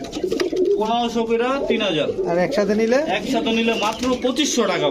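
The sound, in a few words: pigeons cooing at a pigeon market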